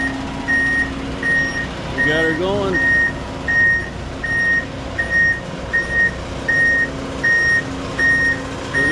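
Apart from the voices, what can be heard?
concrete truck reversing beeps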